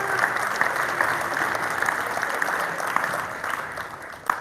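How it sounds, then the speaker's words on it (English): A room full of people at a school athletic awards night claps steadily for a graduating group, an even wash of applause with scattered louder claps throughout. "we can give a round of applause for that"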